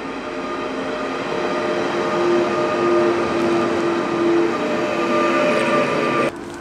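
A train rolls along the rails on the way to Odense in Denmark, a loud steady rumble with faint tonal whine and squeal throughout, then a sudden drop in level near the end, with no talking.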